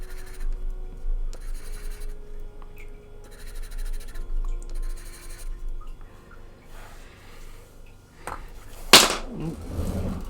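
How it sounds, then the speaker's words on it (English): Quiet scratchy rustling, then a sudden loud clatter of several Derwent Lightfast coloured pencils hitting a hard surface near the end. "Dropping the pencils."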